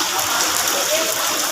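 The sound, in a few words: heavy rain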